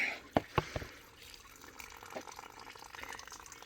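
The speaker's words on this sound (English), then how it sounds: "Oops, and I'm overflowing my bucket." Water runs steadily and splashes as it overflows a bucket during fish hydrolysate making outdoors, a faint, continuous trickle with a few sharp drips early on.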